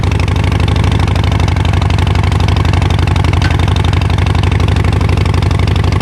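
A Harley-Davidson motorcycle engine idles in neutral after a slow-start fault was fixed, a steady, loud, close, even throbbing pulse that holds without change and has no talk over it.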